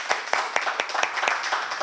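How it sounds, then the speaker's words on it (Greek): Audience at a small dance performance clapping in a steady rhythmic beat, about twelve crisp claps evenly spaced, close and clear with no talking. "Πάμε ένα χειροκρότημα για εμάς."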